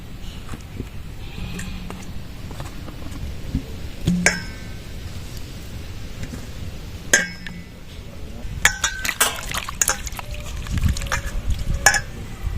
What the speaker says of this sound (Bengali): আমগুলো এবার চুনের জলের মধ্যে দিয়ে দেবো